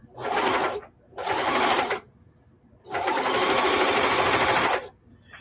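Sewing machine stitching a seam on hot pads made from old jeans, loud and close, running in three bursts with the longest last and brief pauses between them, no voices.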